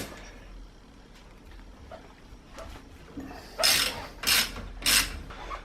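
A ratchet wrench loosens the lower bolt on a motorcycle fork with a closed cartridge, three loud grinding clicking bursts standing out after quieter handling noises.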